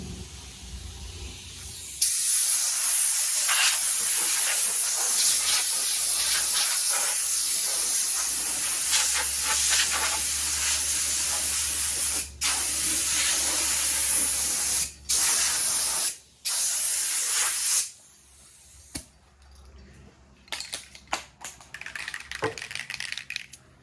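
Primer is spray painted onto a Vendo 44 Coke machine during restoration, long close hissing bursts from the spray can with brief pauses between passes, ending in shorter, choppier sprays.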